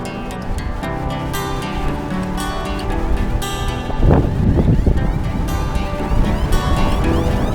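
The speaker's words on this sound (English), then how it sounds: "It's windy." Heavy wind rumbles and gusts against the microphone continuously on a cold morning bike ride along a rail trail, growing rougher partway through, with no clear voices.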